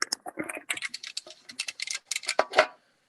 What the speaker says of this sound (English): I can hear you typing from here